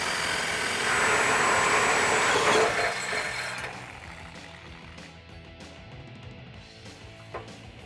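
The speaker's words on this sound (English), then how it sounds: "Now we're just gonna take a die grinder, clean up the edges a little bit" A die grinder cleans up the cut edges of an exhaust hanger during a 2018-2020 Mustang GT axle-back exhaust swap. It gives a loud, steady high whine for about three seconds, then drops to a quieter shop hum with faint taps.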